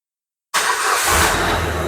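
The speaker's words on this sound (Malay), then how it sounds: "Sekarang ini kereta kita akan start." A Proton Saga FLX car with a rough, stalling idle fault cranks and fires after a moment of silence, then settles into a loud, steady running engine close by.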